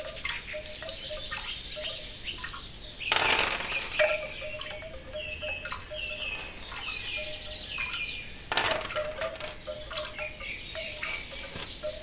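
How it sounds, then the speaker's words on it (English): Birdsong from a relaxation soundscape: steady high chirps and whistled phrases repeat throughout, layered over soft dripping water, with two brief louder rustling bursts. "Now focus on the sound of the bird songs."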